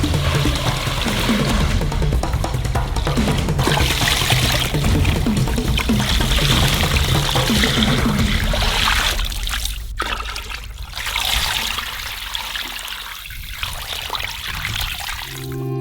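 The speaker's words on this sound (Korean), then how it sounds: "물을 부어주세요." Water pours into a cauldron with sturgeon bones and head for fish soup, a steady loud splashing stream that runs for several seconds, then gives way to softer trickles and drips, with no talking.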